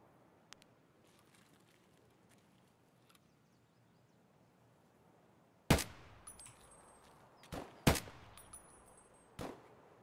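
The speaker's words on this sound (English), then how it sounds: "He shot, like, right beside you, and it made my screen fucking flash." Gunfire in Escape From Tarkov, several sharp loud shots from a scav fired close by after a quiet stretch, a few separate cracks with short gaps between them over low game ambience.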